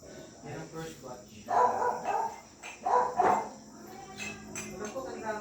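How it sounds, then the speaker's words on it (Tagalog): Dogs bark on a rooftop in short, moderately distant bursts, two clusters of barks standing out over a faint, steady background hum. "Ayun pa yung lagi ng mga aso na tawag sa rooftop."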